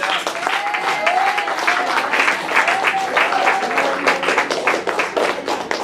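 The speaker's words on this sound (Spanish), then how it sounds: "Dale un fuerte aplauso al Señor" Dense, sustained applause from a church congregation, with a preacher's voice calling out faintly over the clapping throughout.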